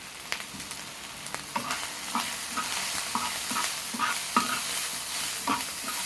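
A spoon stirs turmeric, chili and coriander powder frying in oil in a pan, giving a soft steady sizzle broken by repeated scraping strokes, close by and with no voices.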